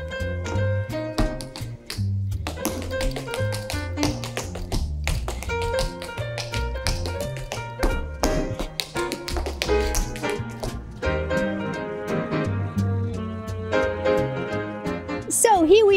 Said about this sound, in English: The sounds are made by the taps that are attached to the shoes.